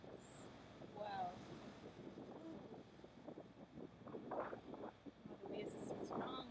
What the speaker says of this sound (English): The waves are so strong. They're huge.